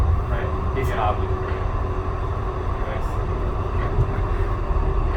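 Interior rumble of a Siemens light rail train in motion, a steady low roll with faint squeals and clanks, while passengers talk over it.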